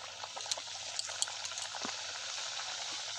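Samosas (singara) fry in hot oil, one added at a time, giving a soft, constant bubbling hiss with a few small pops and crackles. The sound is faint and close, with no voices.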